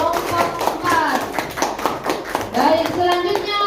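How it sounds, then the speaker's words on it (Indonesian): Clapping for a student in a classroom group activity, a few hands tapping unevenly alongside children's voices and chatter throughout. "Mari kita tepuk tangan untuk Keisha"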